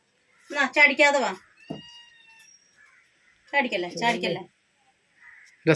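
Two cat meows, each a drawn-out wavering cry, separated by a brief high tone and a long pause, close and fairly loud.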